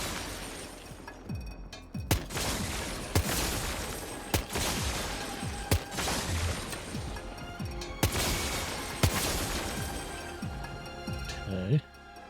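Gunfire at a firing range in Death Stranding 2, a series of sharp separate shots spaced irregularly over a steady background din, with a voice talking throughout.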